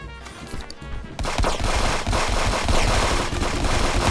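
Rapid automatic turret fire in the video game Friends Vs. Friends, a dense, loud stream of gunshots that swells after the first second and keeps hammering steadily with no voices over it.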